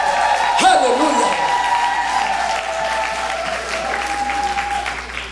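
An audience at a women's church conference applauds and cheers loudly in a large hall, with whoops rising above steady clapping and a voice carrying over the crowd.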